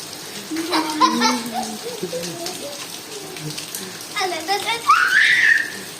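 Children's voices chatter and squeal over a soft, continuous patter of rain in the background.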